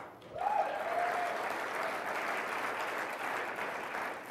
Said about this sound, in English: Anytime you say the president's name, people will clap.